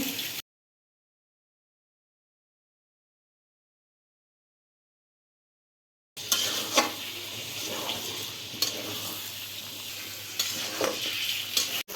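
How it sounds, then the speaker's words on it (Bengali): Onion, ginger, bay leaf, cardamom and cinnamon frying in oil, a steady close sizzle with occasional stirring clatter, heard after a long stretch of silence. "পোলাও রান্না করার জন্য পেঁয়াজ আদা তেজপাতা এলাচ দারচিনি সব একসাথে আমি ভেজে নিচ্ছি"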